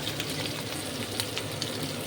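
Chopped onions fry in hot oil along with cumin and bay leaf, giving a continuous crackling sizzle at moderate level, close by and without voices.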